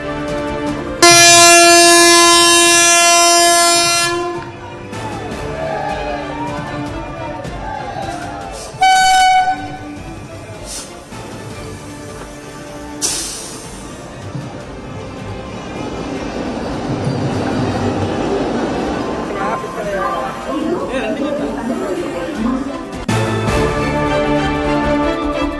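A Vande Bharat express train blasts a long, loud horn, then rumbles and rattles past steadily, with another short horn blast partway through.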